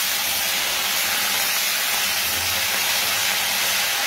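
Chopped bottle gourd greens sizzle in hot oil in a frying pan, giving a steady, loud, broad hiss that holds evenly throughout without pause.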